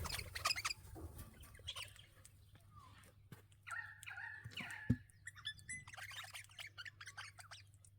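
Pet birds, including what sound like chickens, cluck and squawk faintly outdoors in short scattered bursts over a low steady hum, with quiet chirps and rustling in between.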